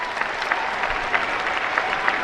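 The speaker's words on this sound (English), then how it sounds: "A round of applause for Steve." Clapping for a man thanked at a 2008 band parade event in Ashland County, a short burst of dense, steady crowd applause heard on its own.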